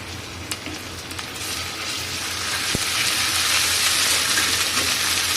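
Ginger and garlic paste frying in a pan: a steady crackling sizzle that swells louder toward the end, with a few sharp clicks of a utensil and no talking.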